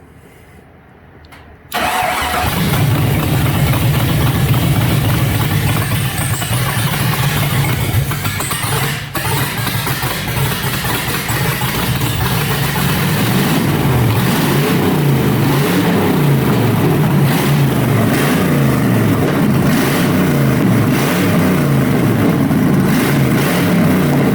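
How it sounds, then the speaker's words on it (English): A V8-swapped Datsun 620 pickup truck cranks briefly, catches and settles into a loud, rumbling idle, then climbs into rhythmic revs in the later seconds, close and alone without talk. "right now I should be able to hit this button and crank this truck and hopefully not catch on fire."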